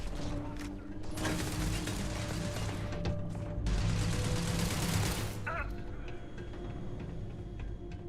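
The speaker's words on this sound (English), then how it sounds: "It's gonna shoot me now." Sustained burst of gunfire aimed at the player in the space game Starfield, a dense loud barrage over mechanical clatter that drops away after about five seconds, leaving a quieter hum.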